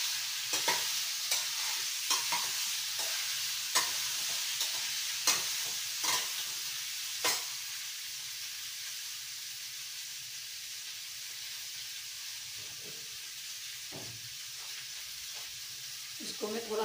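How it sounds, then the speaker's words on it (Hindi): Whole amla fried in ghee in a pan, a continuous soft sizzle and hiss punctuated by sharp clinks of stirring and spoon hits on the vessel, busier in the first half and calmer later. "इसको मैं थोड़ा भूनूंगी घी में"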